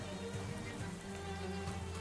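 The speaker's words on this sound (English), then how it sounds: "I can't hear you over the rain." Steady rain pouring down in the video game Shadows Over Loathing, a dense continuous hiss of drops on surfaces with an even low rumble underneath, no voices.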